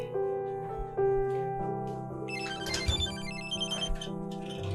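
A mobile phone ringtone plays continuously, a bright repeating melody close by, with faint thumps in the background and no talking.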